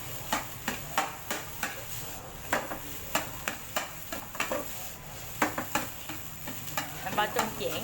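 Rice being stir-fried in a pan, with a spatula scraping and tapping the pan in a quick irregular rhythm over a constant sizzle, close and fairly loud.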